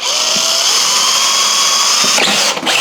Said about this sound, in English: All he did was drill a few holes